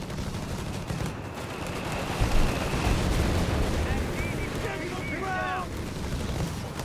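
Grenade explosions in a Company of Heroes 3 Wehrmacht versus US Forces match: dense, rumbling blasts and crackling battle noise, loud and continuous, with a heavier burst in the middle.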